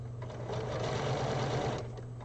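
A sewing machine runs steadily while stitching a quilt seam along a curve, one continuous close whirring burst of fairly even stitching.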